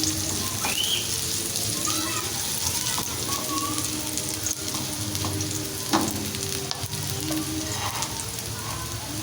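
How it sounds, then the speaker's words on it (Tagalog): Shrimp and vegetables sauté in a pan with a dense, continuous sizzle and crackle, close and steady, with occasional faint clinks of a utensil and no talking. "Gisa muna natin ang hipon saka gulay bago natin igataan"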